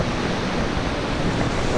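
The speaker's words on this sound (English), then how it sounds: "Nice little flowing river." A small flowing river beside a trail campsite on a hike from Red Earth Creek to Shadow Lake, a loud, steady broadband rush close by with some wind buffeting the microphone.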